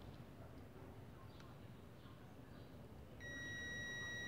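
A multimeter's steady continuity beep sounds as a good thermal protector is tested, starting partway through and holding as a clear, quiet tone over low background noise.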